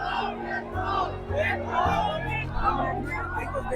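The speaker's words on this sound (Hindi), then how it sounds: "यहाँ पर लोगों की भीड़ जमा हुई है" A crowd of protesting MPPSC aspirants gathered at the commission office, a dense steady babble of many voices with occasional shouts rising above the hubbub, close and continuous throughout.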